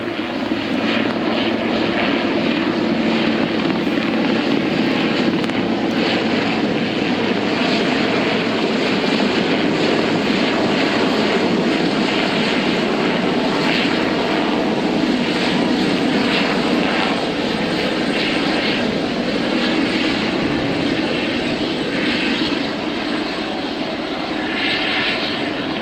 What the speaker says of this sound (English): Here's another chopper coming in.